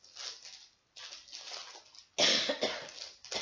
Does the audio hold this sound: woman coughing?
yes